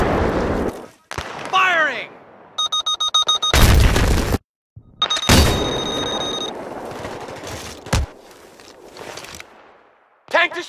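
A tank blowing up in the video game Battlefield 3 brings heavy booms and roaring blasts amid gunfire, ringing electronic tones and chaotic battle noise, loud and close, with abrupt cuts between bursts.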